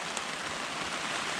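Rain falling steadily outdoors during a wet Colorado public-land elk archery hunt, a soft continuous hiss of drops on surfaces, fairly quiet and even, with no talking.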